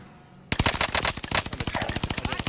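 Rapid automatic gunfire in a video game bursts in after a brief quiet moment, a fast steady string of loud, close shots that continues to the end.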